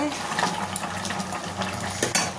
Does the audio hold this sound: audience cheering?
no